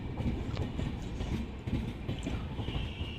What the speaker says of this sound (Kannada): ನಮ್ಮ ಟ್ರೈನ್ ಬಂತು